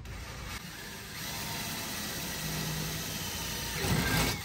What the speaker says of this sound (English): I'm going all the way through, so I'm gonna make my first hole. I'm gonna make sure my drill is nice and square.